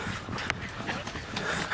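Farm dogs whimper and whine in a household with horses, giving short, high, uneven yelps that rise over a low background murmur.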